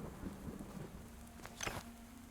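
Torrential rain and thunder from the video game Unexplored 2, a steady wash of rain with a low rumble and a sharp crack of thunder partway through, fairly quiet overall.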